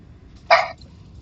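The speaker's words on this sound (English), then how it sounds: "obviously you hear the dogs and cats and goats" A single short dog bark or yip from the creatures of the video game No Man's Sky, one burst of about a fifth of a second at moderate loudness over a low background hum.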